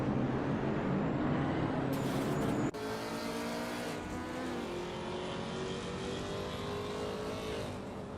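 Race cars roaring together in a video game race, a dense continuous engine drone with rising and falling pitch as the cars jostle for position, steady and loud throughout.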